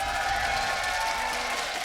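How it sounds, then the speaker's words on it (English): A live esports arena crowd in Berlin at a League of Legends EU LCS match cheers and applauds steadily and loudly, a dense, continuous roar of clapping and voices with no pause. "We've got an energetic crowd today here live in Berlin."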